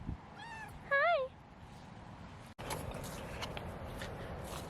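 A pet cat gives two short rising meows close by in a rural yard, followed by a sharp cut and outdoor rustling and footsteps.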